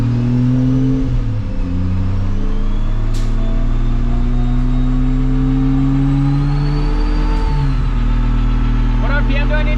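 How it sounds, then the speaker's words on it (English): A single-turbo 2JZ Toyota Supra MkIV runs loud and steady on a dyno with a boost controller, its engine tone climbing slowly with a dip and recovery, while voices talk over it. "So we're on the dyno and see what this thing makes on wastegate spring."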